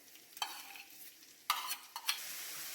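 Tomato and spices frying in a pan for a tilapia fillet dish, a quiet low sizzle punctuated by several brief scraping stirs of a spoon, close, with no speech.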